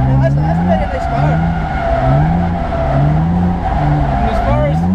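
BMW E30 325i with a swapped M50 engine drifting at a Scottish drift championship, a loud continuous engine drone with rising and falling revs and steady tyre squeal throughout, close and unbroken.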